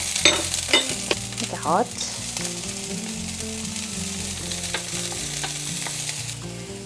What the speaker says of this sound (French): je vais revenir l'ail et le blanc de la ciboulette